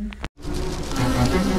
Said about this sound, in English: Bees make honey.